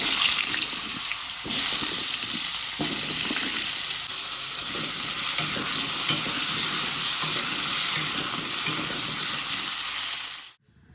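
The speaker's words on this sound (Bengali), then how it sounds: "হালকা ভাজিয়েছি এরপর ভাজবো আলু" Potatoes fry in a pan during home cooking, a loud continuous sizzle with occasional stirring scrapes lasting about ten seconds before cutting off abruptly.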